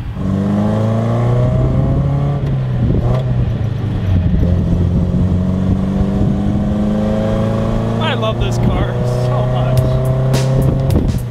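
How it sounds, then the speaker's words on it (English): A Datsun car drives on a long road trip, its engine giving a steady, loud in-cabin drone with rising and falling revs as it accelerates and shifts. "Let's get in our car and drive it some more."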